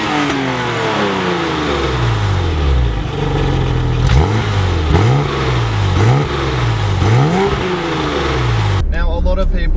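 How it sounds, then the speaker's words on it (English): A BMW E30's straight-six engine revs repeatedly, with rising and falling pitch sweeps over a loud, steady engine drone, cutting off abruptly near the end. "And that engine, that straight six, has got one of the best sounds ever."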